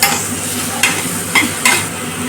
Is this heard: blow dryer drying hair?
no